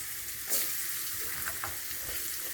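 Onion sautéing in plenty of oil with dried anchovies for kinamatisang dilis, a steady close sizzle with a few scraping stirs, no talking.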